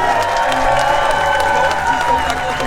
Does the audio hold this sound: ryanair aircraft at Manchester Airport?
no